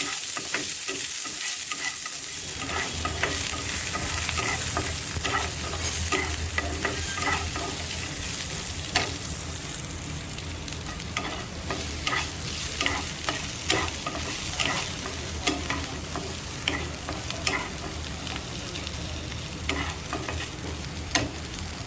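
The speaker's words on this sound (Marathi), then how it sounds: "कट केलेला उभा कांदा छान खरपूस लाल कलर येतो ह्याला फ्राय करायचा आहे आपल्याला." Sliced onions sizzling loudly in oil in a pan while being stirred, with repeated scraping clicks over a continuous frying hiss; no voices.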